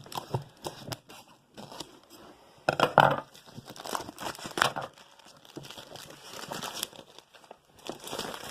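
Plastic wrap crinkles and crackles close by in irregular bursts, with a louder crumpling stretch partway through and no talking.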